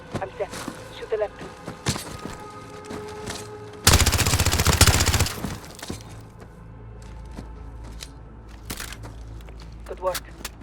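Rapid automatic gunfire erupts for a couple of seconds in the Modern Warfare game, loud and dense, followed by scattered single shots, clinks and debris.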